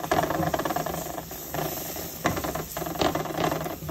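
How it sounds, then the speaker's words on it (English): Onions cook in a pan over medium heat for au gratin potatoes, giving a close, steady hiss and sizzle with periodic scraping bursts as they are stirred. "We'll stir this together on about a medium heat."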